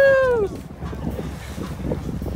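A boat motor drones across water with wind buffeting the microphone, a whining engine tone fading early as voices chatter over the rumble.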